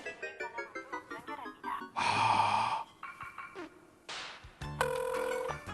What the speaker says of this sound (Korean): 전화가 왔어요.